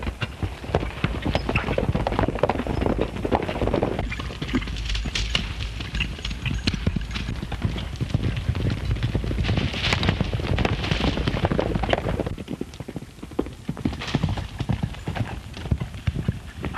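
Many horses' hooves clip-clopping at a gallop in a 1933 western film, a loud continuous rush of pounding steps with occasional clatter, close by and busy throughout.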